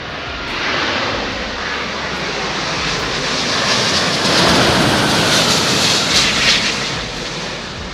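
A 230-ton Cathay Pacific jet airliner on crosswind approach to Heathrow runway 27L roars loudly and steadily, a broad rushing engine noise that swells toward the middle and stays close, with no voices.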